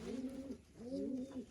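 Pigeons give two soft, low, rolling coos in quick succession, close by but quiet.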